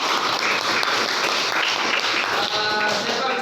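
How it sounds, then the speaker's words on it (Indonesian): Students applauding in a classroom during a micro-teaching Fiqih lesson, loud continuous clapping that fills the room evenly, with voices mixed in toward the end. "Oke, tepuk tangan."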